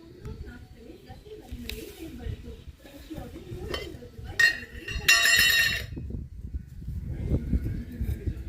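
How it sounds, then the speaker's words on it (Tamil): Castor oil is mixed in a metal pot, with irregular clinks and scrapes of a utensil against the pot and a brief bright ringing clatter near the middle, while a person talks nearby. "இங்கே பாருங்கள், விளக்கெண்ணெய் ஊற்றுறேன். இது வந்து நம்ம பிசைஞ்சிக்கலாம்."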